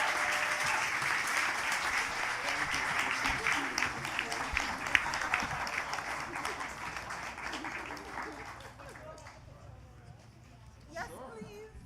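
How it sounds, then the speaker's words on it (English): An audience at an author event applauds steadily and loudly, the clapping gradually thinning and fading out toward the end. "Everybody, please give our authors a round of applause."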